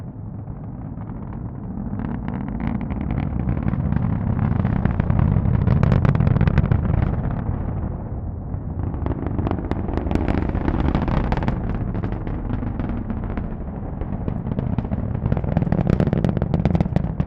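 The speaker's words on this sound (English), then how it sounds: "let's listen to the roar of those 9 Merlin 1D engines" Nine Merlin 1D engines of a SpaceX Falcon 9 rocket roar in flight during a Starlink launch from Cape Canaveral, a loud continuous rumbling crackle that surges and fades with no voices.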